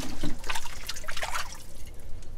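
Water trickles and drips over old machine-made liquor bottles in an underground train station vault, a close, irregular splashing and dribbling with no voices.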